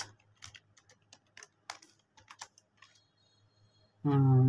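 Fingers tap out Fortran code on a computer keyboard in Code::Blocks, a quick, close, irregular run of light clicks over a faint hum, and a loud tone cuts in at the very end.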